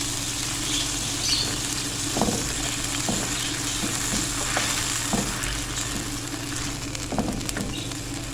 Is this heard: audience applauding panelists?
no